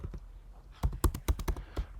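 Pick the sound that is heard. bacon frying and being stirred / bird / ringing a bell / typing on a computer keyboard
typing on a computer keyboard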